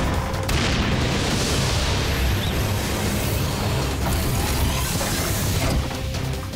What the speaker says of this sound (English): Force missile, fire!